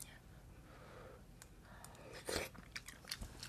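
Salmon being chewed during a mukbang, quiet wet mouth sounds and a few soft crunchy bites close to the microphone, building toward the end with faint breathy vocal noise.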